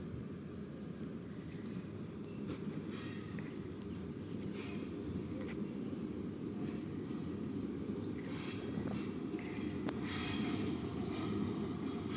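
A passenger train on the Dnipro–Truskavets route pulls into a resort station, a steady heavy low rumble of wheels and carriages rolling past with faint squeals and clanks, continuous and close, no voices.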